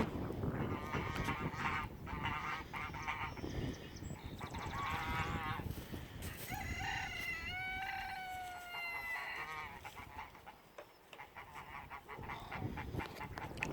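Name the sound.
geese honking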